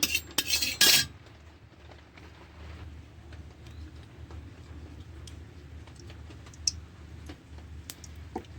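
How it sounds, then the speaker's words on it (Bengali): A metal wok (kadai) set down on a kitchen stove, a short loud clatter and clank at the start, then a quiet low hum with scattered small ticks. "চুলায় আমি কড়াটা বসিয়ে দিলাম।"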